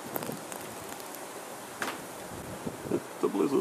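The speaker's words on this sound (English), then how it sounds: "It's a bit windy." Gusty wind blowing across the microphone during a snow blizzard at Blackheath on the Blue Mountains plateau, a steady rushing roar with a few louder buffets and faint crunching movement toward the end.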